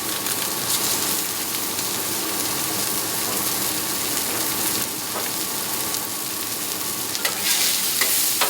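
Hash browns frying in butter and oil on a Griddle Master flat-top griddle, a dense, steady sizzle that stays loud and even throughout, with occasional sharper crackles and pops.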